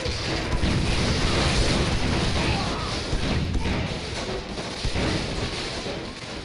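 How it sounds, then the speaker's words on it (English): Explosions in the sci-fi shooter game Tribes: Vengeance rumble as a loud, continuous wash of booms and thuds, dense and close throughout with no breaks. "So many explosions."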